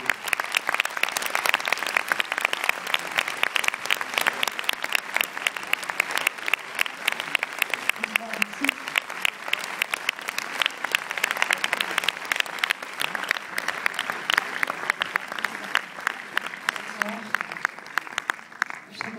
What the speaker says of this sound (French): je vous demande vraiment d'applaudir.